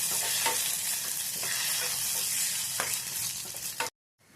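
Mustard seeds, cumin, medium garlic cloves and chillies sizzle steadily in hot oil for a tempering, with a few scraping stirs, then the sound cuts to silence near the end.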